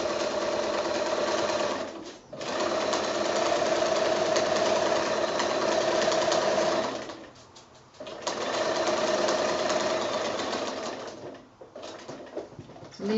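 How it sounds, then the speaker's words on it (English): A sewing machine stitching close to the edge of Velcro on a project bag runs in long steady bursts with a fast mechanical whir, briefly stopping twice, loud and close with no talking. "So I'm just stitching close to the edge of that Velcro"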